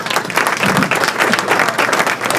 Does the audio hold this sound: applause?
yes